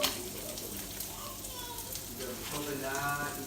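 An omelette mix sizzles and crackles softly in a pan, a faint, steady frying hiss with light popping and a voice speaking quietly.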